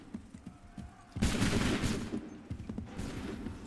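A musket volley erupts in Assassin's Creed III Remastered as a loud, dense fusillade of overlapping shots. It is followed by scattered further gunfire and rumbling battle noise.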